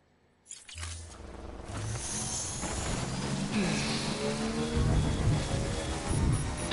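Timefall rain in the video game Death Stranding, a steady wash of rainfall rising out of near silence and building gradually louder, with low rumbling underneath.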